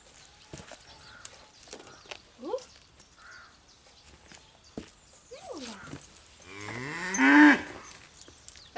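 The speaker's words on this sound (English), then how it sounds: "That was the first moo since yesterday at about 1 o'clock." A cow moos at night in a quiet farm setting, a low drawn-out call near the end after sparse faint sounds and a person talking softly.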